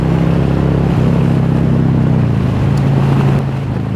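A motorcycle engine, a Harley-type bike that had a check engine light, runs loud and close with a deep rumbling idle that shifts pitch slightly before settling.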